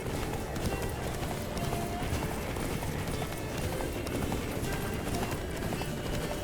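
Horse galloping in The Witcher 3 video game, a steady run of hoofbeats clip-clopping close and loud throughout, with a dense busy background.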